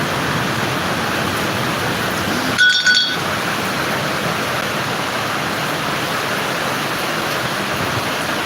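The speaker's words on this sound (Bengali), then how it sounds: "এত পরিমাণে বাতাস বইছে" Strong wind gusts through heavy rain, making a dense, steady rushing roar that never lets up, broken once early on by a brief glassy clink.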